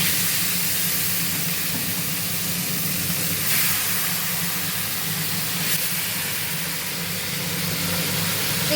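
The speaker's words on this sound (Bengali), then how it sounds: "আমি এখানে গোটা গরম মশলা, তেজপাতা, শুকনো লঙ্কা ফোড়ন দিলাম" Whole garam masala, bay leaves and dried chillies sizzle in hot oil, a steady, dense hiss that holds evenly for several seconds with no voices.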